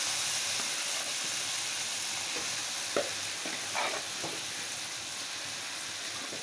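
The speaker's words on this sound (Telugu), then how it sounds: "ఇప్పుడు రుబ్బుకున్న గోంగూర వేసుకోవాలి. దీంట్లో వేసుకొని మొత్తం కలుపుకోవాలి." Ground gongura leaves go into a hot pan of frying seasoning for a gongura lentil curry, giving a continuous hissing sizzle broken by a few soft spoon scrapes and taps while being stirred.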